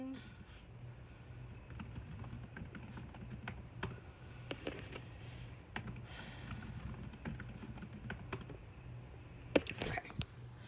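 Rapid keyboard clicks tap out a short burst of typing a password on a Chromebook, steady and close, with a few pauses over a low background hum.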